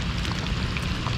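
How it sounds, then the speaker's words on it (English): Steady rain falls on a lake during a fishing outing, a continuous broadband hiss with scattered drop patter, fairly close and even throughout, with no voices. "Hoping this rain would die down a little bit."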